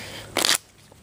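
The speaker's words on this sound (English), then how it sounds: "The audience will shuffle the cards" A single quick riffle of cards being shuffled, a brief crisp flutter lasting a fraction of a second against a quiet background.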